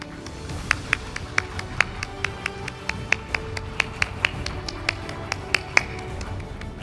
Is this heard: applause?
yes